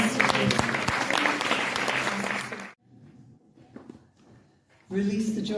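A church congregation at a convention claps briefly, a dense burst of applause that cuts off abruptly into near silence with faint scattered sounds, then voices resume.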